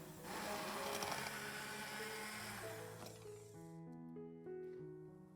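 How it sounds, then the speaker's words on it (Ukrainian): An immersion blender purees boiled plums for a plum sauce, a steady motor whir that shifts pitch as the blade works through the fruit, then eases toward a lighter hum near the end. "А далі за допомогою занурювального блендера подрібнюємо сливи до стану пюре."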